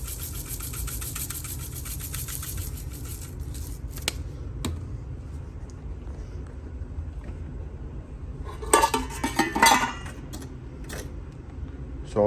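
Eggs for an omelette are beaten in a bowl, giving a rapid, rhythmic clicking close by for several seconds over a low hum. Then it fades, with a brief louder clatter later.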